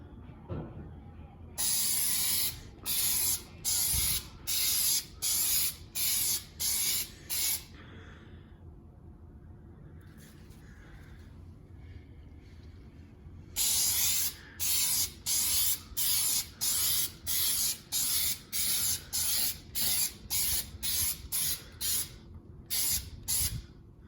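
Heated automotive clear coat is sprayed onto a guitar body in a quick series of short, sharp, hissing aerosol bursts. They come close together in two runs with a quiet gap between them.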